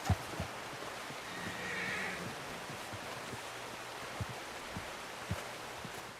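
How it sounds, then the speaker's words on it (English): A horse in the video game Red Dead Redemption 2 gives a short whinny early on, set against a steady outdoor ambience with a few soft hoof-like knocks. "Olha o cavalo maluco ali, ó."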